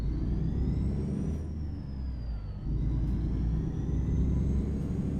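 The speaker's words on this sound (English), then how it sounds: "the sound of this engine fits in a more classic style truck better than this truck" Truck engine droning steadily in American Truck Simulator, a deep continuous rumble with a whining tone that dips as revs drop and then rises again as the truck accelerates.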